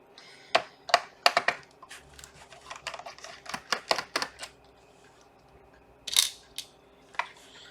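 Screws are removed from a laptop's bottom case during a RAM upgrade: a quick run of small, crisp metallic clicks and taps close up, followed by a few scattered ticks after a pause.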